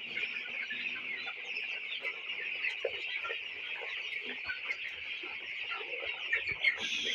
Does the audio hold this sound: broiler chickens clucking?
yes